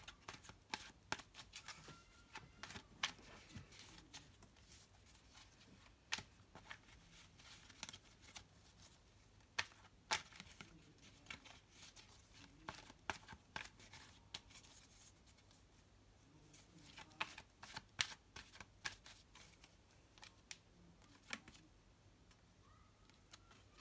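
Soft, close tarot card shuffling with quiet riffles and scattered taps and clicks, recurring in bursts at a low volume with no talking.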